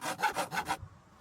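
Building a storage box with the hammer in the video game Rust gives four quick wooden scraping strokes in an even rhythm, close and fairly loud, then a short quiet tail.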